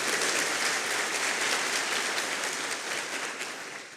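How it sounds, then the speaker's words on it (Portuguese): A church congregation applauds loudly in a dense, continuous burst of clapping that fades slightly toward the end. "aplauda bem forte o nome de Jesus"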